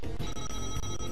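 Bowser's phone item ringing in the video game Mario Party 3, a brief, dense electronic ringtone with a bright, buzzing tone, heard alone.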